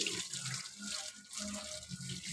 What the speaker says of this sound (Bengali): লালু স্নান করবে, কত সুন্দর করবে লালু স্নান